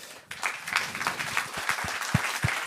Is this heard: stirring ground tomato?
no